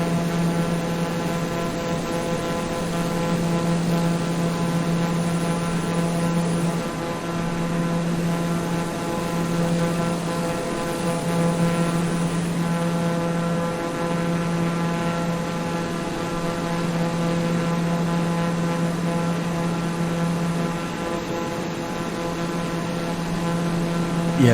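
Steady, loud propeller drone fills the cockpit of a small, compact plane in flight, with a constant engine hum and no break or talk throughout.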